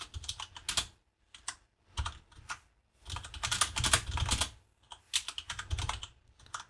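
Bursts of typing on a computer keyboard while writing code, with quick irregular key clicks separated by short pauses, close and clear with no talking.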